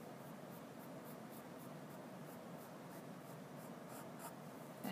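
Pencil-like scratching of short, light sketch strokes on paper while drawing a skull. The soft, steady rasp is close and quiet, with faint repeated stroke accents throughout.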